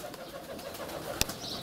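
Rock doves and tumbler pigeons coo faintly in a loft, soft low murmurs with a brief sharp flutter or knock partway through.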